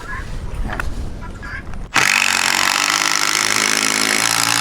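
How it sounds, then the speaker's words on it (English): A power drill driving screws starts abruptly and runs loud and continuous for several seconds, close by, after a stretch of quieter handling noise. "I'm going to hold this up, and Kimberly's going to screw it in."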